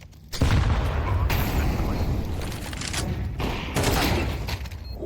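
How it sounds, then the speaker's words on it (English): Rapid bursts of gunfire from Counter-Strike 2 during a competitive match, dense overlapping shots and booms that pile up loud and continuous, with brief gaps between volleys. "Oh, nice headshot from Nature"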